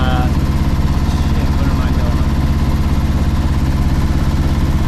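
A sailboat's engine runs steadily while motor sailing south on Lake Michigan, a loud, continuous low drone with an even mechanical pulse throughout.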